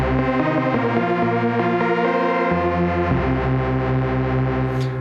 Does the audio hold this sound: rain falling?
no